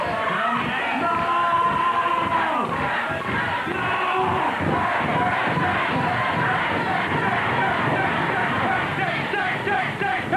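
A wrestling arena crowd roars and cheers loudly and continuously, a dense wall of voices with shouts rising through it.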